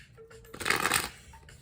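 Cards of a Cosmic Tarot deck being shuffled, a short dense burst of riffling and slapping about half a second long at moderate volume, with a faint tone before it and quiet after.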